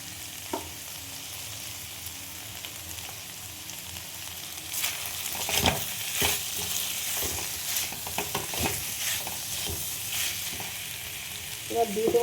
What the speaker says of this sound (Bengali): জল দেবো না, শুধু ভেজে নেব।